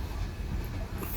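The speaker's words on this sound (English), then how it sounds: "The track up there that the train is on goes over the bridge" A train rolls across a railway bridge near Enola on the line toward Pittsburgh, a continuous low rumble with faint rail noise, steady and moderately distant.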